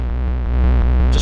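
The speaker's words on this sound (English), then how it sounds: "Distortion." A sampled NI Playbox sound run through distortion on an Octatrack comes out as a heavy, buzzing bass drone with regular pulses, loud and sustained, with a brief brighter burst at the end.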